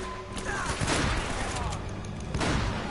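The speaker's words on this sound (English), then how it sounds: "Oh, I have a shotgun." Shotgun blasts in the video game Uncharted: Drake's Fortune, several loud booming shots with echoing tails spread across a few seconds amid other in-game combat noise.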